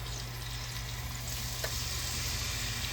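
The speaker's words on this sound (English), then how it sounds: "we got a little bit of a sizzle going" Chicken pieces sizzle in olive oil in a pan, a steady close crackle and hiss with a faint low hum beneath and no talking.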